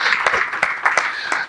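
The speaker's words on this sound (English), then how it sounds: "Let's just clap hands for ourselves." An audience at a property market panel claps together, a short burst of fairly close, loud, uneven clapping.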